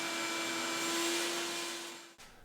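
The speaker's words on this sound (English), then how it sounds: "now I need to get a shop vac and clean all this junk" A shop vac sucks loose debris from the rain ducts of a C5 Corvette, a steady close whine with faint tonal hum that runs evenly, then cuts off abruptly near the end with a short trailing wind-down.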